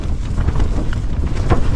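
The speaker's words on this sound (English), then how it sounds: "the tent's just completely getting hammered by the wind" Strong wind batters a camping tent, a steady loud roar of gusts buffeting the fabric and microphone with no break.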